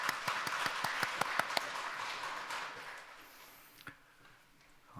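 Applause from a church congregation at a Sunday worship service, a burst of clapping with a few sharp claps that thins out and fades over several seconds.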